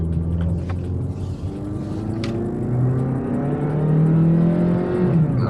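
A rental car's engine is floored and revs steadily upward, holding a loud, rising drone for several seconds before the pitch drops sharply at the end as it hits its shift point.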